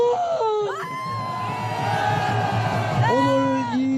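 A rally crowd at an outdoor winter Taegukgi gathering near Daehanmun and the Blue House in Seoul roars a cheer at a speaker's call, with raised voices and shouts swelling into a sustained collective din.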